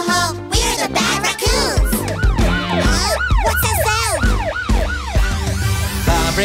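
A loud, close police car siren wails continuously, sweeping up and down in repeated arcs.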